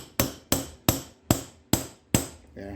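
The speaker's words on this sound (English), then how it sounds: "We'll just get it good and tight with a hammer and a punch." A hammer strikes a punch against a nut on a 2003 Dodge Ram 3500 steering box: six sharp metallic blows land at a steady, deliberate pace, each ringing briefly before the next, close and loud.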